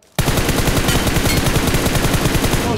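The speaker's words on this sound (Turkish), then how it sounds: "Yalnız headshot sesleri çok güzel değil miydi?" Rapid, continuous automatic gunfire from the PUBG Mobile shooter game, loud and close, starting abruptly after a brief quiet and pounding on steadily in dense bursts with no talk.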